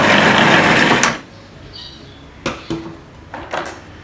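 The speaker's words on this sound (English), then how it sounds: "So just put that into my magic mix processor. I'm just going to grind them for just a little while." A Magic Mix food processor grinds soaked dried shrimp in a loud, close burst for about a second, then stops, followed by a few short clunks and knocks.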